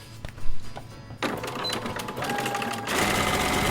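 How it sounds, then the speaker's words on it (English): A sewing machine runs along the lower seam of a drawstring bag made from a shirt. A few soft handling clicks come first, then the machine starts with a loud, rapid, continuous stitching whir that speeds up near the end. "we are actually going to sew the lower seam first"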